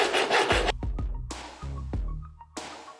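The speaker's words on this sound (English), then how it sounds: "Cut the neck off a plastic bottle." A plastic bottle's neck is cut off with a blade in several short scraping, crackling strokes with brief pauses between them, close and fairly loud with no talking.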